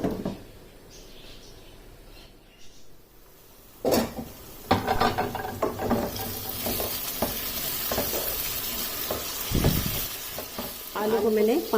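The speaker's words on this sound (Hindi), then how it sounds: "आलू को मैंने इस मसाले में अच्छी तरह से भून लिया है।" Potatoes frying and being stirred in masala in a pan for aloo palak, with a quiet start, then sizzling and repeated scraping of a spoon against the pan, steady and close.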